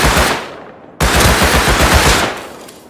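Automatic gunfire in the Rust console game, a rapid rattling burst that cuts off briefly near the one-second mark and then resumes as a sustained, loud, close volley of shots with no talking.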